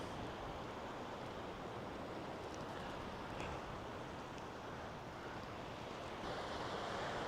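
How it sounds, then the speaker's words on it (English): Pacific Ocean waves on the rocky California coast at Fort Ross, a continuous broadband roar of surf with steady wind noise across the microphone, no voices. "And there's the Pacific Ocean."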